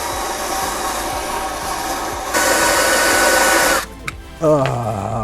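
A power drill with a wire wheel brush whirs steadily with a gritty, buzzing scrape on a corroded Toyota 4Runner battery compartment, grows louder and harsher, then stops abruptly before brief bursts of noise.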